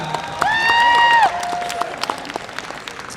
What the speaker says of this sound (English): Give it up for another round of applause.